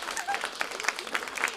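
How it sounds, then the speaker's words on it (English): An audience at a presentation claps for themselves, a steady patter of many hands at moderate volume, with some voices mixed in beneath. "give a round of applause to yourself"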